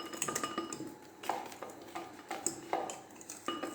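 A whisk or spoon scrapes and clinks against a pot while crème pâtissière made from boiled milk and flour is stirred, a quiet, irregular run of metallic taps and scrapes repeating close by with no talk.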